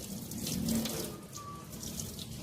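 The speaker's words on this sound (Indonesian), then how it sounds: "Las kedua tangan dengan air yang mengalir mulai dari jari sampai siku." Hands being washed under running tap water during a clinical handwashing procedure, a steady soft splash and flow that is fairly faint and close, with no talk over it.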